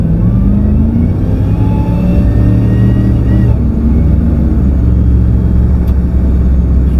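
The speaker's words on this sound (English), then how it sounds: "Let's go ahead and hit the gas a little bit." A 1970 Chevelle with an 840 hp LT4 engine pulls hard on the interstate, its loud steady engine rumble and rising drone heard from inside the cabin for several seconds.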